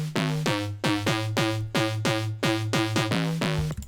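Two layered bass house synth basses play together in a punchy, repeating pattern of short pitch-dropping notes, about eight hits in four seconds, loud and dry with no voices.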